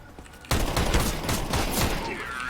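Rapid gunfire bursts out suddenly in a Counter-Strike Wingman match, a dense, loud fusillade of repeated shots with a brief quieter moment before it starts.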